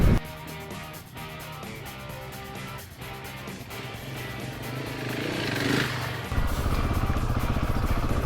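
A 2019 KTM 690 Enduro R with its 74 hp single-cylinder engine leaves the asphalt to ride off-road, a droning engine note running under music before surging louder and rougher near the end.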